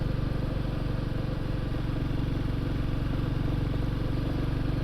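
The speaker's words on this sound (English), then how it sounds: "I'm still on the Royal Enfield Classic" A Royal Enfield Classic 350 motorcycle climbing uphill toward a summit on quiet roads, its engine a steady, loud, close drone with a low thudding pulse throughout.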